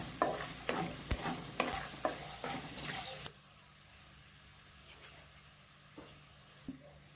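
Chana dal and urad dal frying in a pan for VangiBath, a loud crackling sizzle with rhythmic stirring scrapes for about three seconds, then a much quieter low sizzle with a few faint scrapes.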